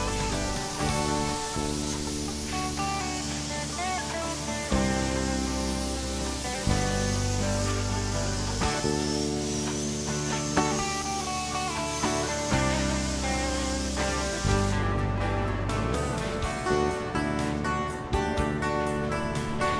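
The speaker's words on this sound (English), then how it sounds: "I'm just going to start spraying where I left off" A spray gun applies finish coating to an oak cabinet panel in long, continuous hissing bursts with brief pauses between passes, close and loud, alone without talk.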